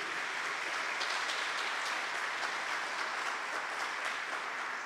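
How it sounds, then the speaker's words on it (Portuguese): Steady applause from an audience at a Catholic talk on Marian consecration, dense even clapping filling the room throughout at moderate volume, with no voices over it. "Pode aplaudir, pura, pura."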